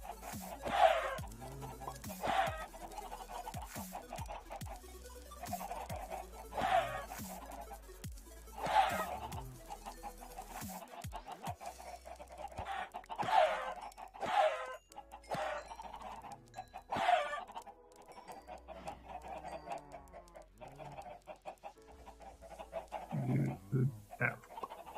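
Minecraft chickens cluck in short, repeated chirpy bursts spaced a few seconds apart, fairly faint against a steady low game background.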